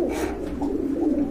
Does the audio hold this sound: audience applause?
no